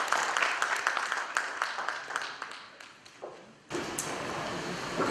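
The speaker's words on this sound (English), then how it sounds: "Can we have a round of applause for Mr." Audience applause for a keynote speaker at a mobile apps conference in India, dense steady clapping from a crowd for about four seconds, briefly dipping before a sharp burst that continues to the end.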